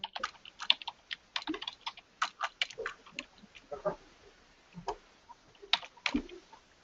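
Typing on a computer keyboard while writing Python code for a graphical interface, irregular clusters of crisp keystrokes with brief pauses, close and fairly quiet.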